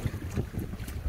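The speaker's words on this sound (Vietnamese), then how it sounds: "hơi sóng gió một tí cho nên là khó quay đấy." Wind buffeting and choppy waves around a fishing boat squid-fishing off Con Dao at sea, a steady low rumble of gusts and water slapping close to the microphone, no voices.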